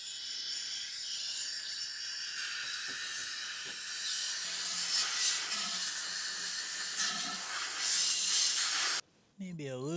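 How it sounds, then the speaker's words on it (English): Compressed air hisses through the carburetor of a 37-year-old John Deere 316 lawn tractor, a loud, sustained blast with brief pulses that cuts off near the end, followed by a short high-pitched sound. "I'll just use a little compressed air to help move stuff to the other side and out the hole."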